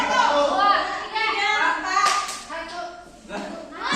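Students in a classroom clap their hands together during a counting game at a school workshop, with sharp claps coming at intervals among children's voices and chatter.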